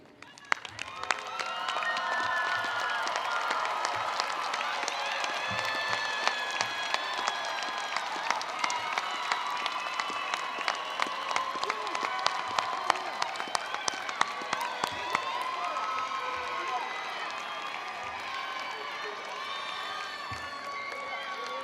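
Graduates applaud their families at a university commencement ceremony in a large hall, with sustained clapping mixed with cheers, whoops and scattered shouts, loud and even throughout.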